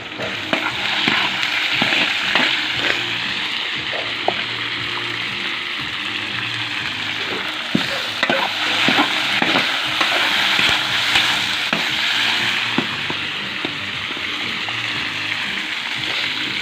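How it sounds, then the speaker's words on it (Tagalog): Pork sautés loudly in a pan at a family camp in Dinalungan, Aurora Province, throwing off a dense, continuous sizzle with scraping and stirring strokes running all the way through. "magigisa tayo ng baboy"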